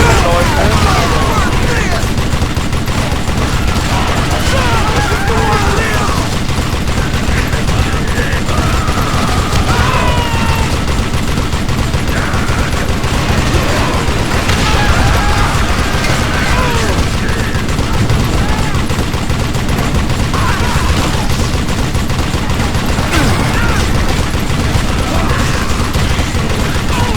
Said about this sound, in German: Jetzt mal überall Schüsse.